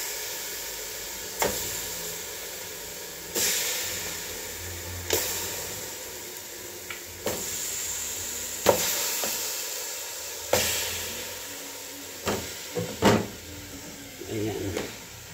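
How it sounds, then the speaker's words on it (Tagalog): Chunks of meat sautéing in a pan with garlic, bay leaf and whole pepper, a soft sizzle under repeated sharp clanks and scrapes of stirring, with a voice speaking at times. "Isusute lang natin tong karne."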